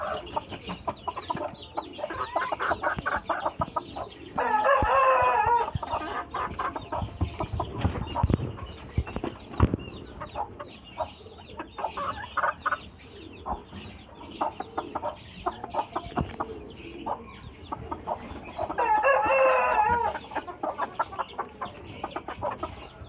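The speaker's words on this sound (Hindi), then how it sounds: "मुर्गा बांगों पे लग गया, वह बांगे देता है।" Paper white Ko Shamo rooster, about one foot tall, crowing twice in long, raspy calls spaced well apart, with soft clucking and scratching between them at close range.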